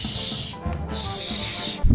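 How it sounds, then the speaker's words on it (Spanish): A running shower gives a steady, close hiss of spraying water throughout, with a faint tonal hum underneath and a brief dip in the spray partway through; no one speaks. "Escucha la ducha, mira."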